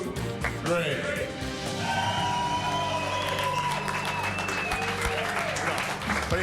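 A crowd cheers and applauds a custom chopper, with steady sustained clapping and whoops throughout, fairly loud and close, while voices talk beneath the noise.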